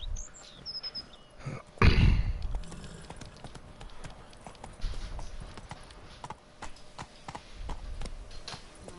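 Horse hooves clip-clop in The Witcher 3: Blood and Wine, a loose run of soft hoofbeats with one heavier thump early on, mixed with game ambience and no talking.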